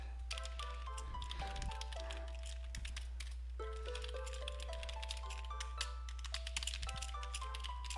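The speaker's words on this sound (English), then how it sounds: "I get distracted typing." Rapid, irregular keystrokes on a computer keyboard clatter close by in quick bursts while someone plays Old School Runescape, with game music and a steady low hum underneath.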